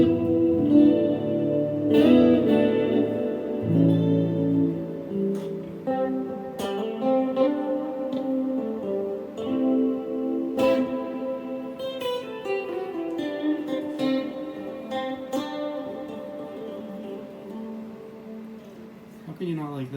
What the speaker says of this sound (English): It's a reverb, but it adds a modulation effect like a chorus to the overall tone